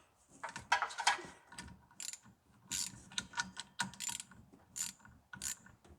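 A ratchet wrench tightening a bolt on a go-kart, bursts of quick metallic clicking from the pawl, stopping and restarting several times, close and fairly quiet in an otherwise still space.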